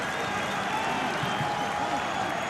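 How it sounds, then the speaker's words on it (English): Stadium crowd at an A-League final between Sydney FC and Central Coast applauding an injured player as he is substituted off, a dense, even roar of distant clapping and crowd noise throughout. "a big round of applause for Mark Rudin"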